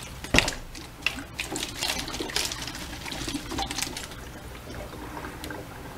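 Water swirls through a tornado tube into a Sawyer Squeeze filter with soft trickling, gurgling and pouring, faint and close, with a few small knocks and splashes.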